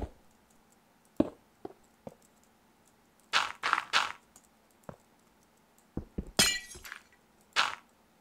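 Glass blocks break in the Minecraft video game, a series of short crisp shattering clinks in irregular clusters with brief clicks between them and no talking.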